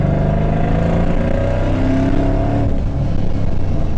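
A powerful 500-horsepower car engine revs loudly and close, its deep roar shifting pitch as it climbs and settles, with no talking.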